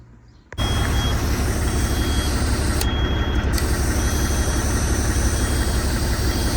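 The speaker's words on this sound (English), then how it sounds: "let me turn on the truck, make sure it works" After a brief quiet moment, the big diesel engine of a Kenworth T600 semi truck cranks and roars to life, then keeps running loudly and steadily with a deep rumbling idle.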